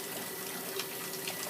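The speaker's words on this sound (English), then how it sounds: "I'll refill the first bucket while I'm working in the second bucket" Water runs steadily from a tap into a bucket during a tie-dye rinse, a soft, even rushing splash that stays constant throughout with no talk.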